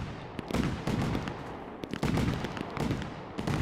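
Rapid bursts of fireworks explode in the video game Fireworks Mania, with boxed fireworks set up across a neighborhood, some firing off to the side. Irregular loud pops and crackles pile up in dense clusters, close by and with no voices.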